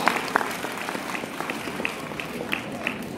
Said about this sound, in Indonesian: Tepuk tangan dong buat Prudential ya.